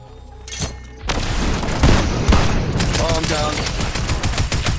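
Bursts of Tactical AR gunfire in Fortnite, loud rapid automatic shots starting after a brief pause and continuing densely with booming impacts, mixed with game effects.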